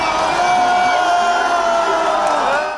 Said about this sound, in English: greeted by cheering members of his opposition European Solidarity Party outside the airport